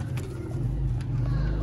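Pigeons in a loft setup cooing, low rounded coos rolling steadily close by, with a faint background murmur.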